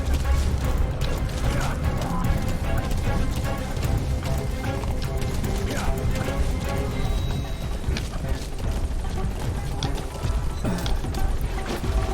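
A horse gallops in the video game Metal Gear Solid V: The Phantom Pain, its rhythmic hoofbeats steady and close for the whole stretch. Clanking and creaking mechanical game sounds and faint voices run underneath.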